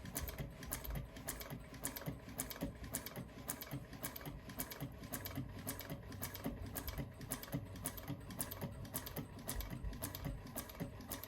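Fast, steady rattling of an industrial sewing machine stitching bag fabric at an eighth-inch seam, a quiet, continuous run of rapid needle ticks with no pauses.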